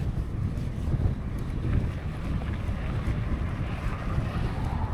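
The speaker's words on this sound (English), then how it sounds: "The wind today, yes, is doing my head in." Strong wind roars steadily into the microphone while cycling slowly downhill on a desert road in Algeria near Bou Saada, a continuous loud buffeting rumble with no talking.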